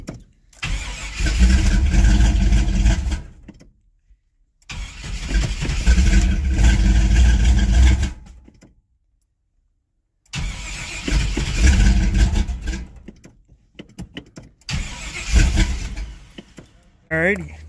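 Freshly swapped Vortec 350 V8 in a GMC S15 pickup cranks and fires, running loudly in long bursts with brief silent gaps between attempts, then settling toward idle near the end.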